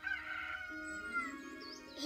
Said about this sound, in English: It sounds like Mr. Rooster's awake.